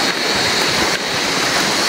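Sea waves wash against a rocky beach of mostly flat stones, a continuous loud rushing surge filling the short stretch with no voices.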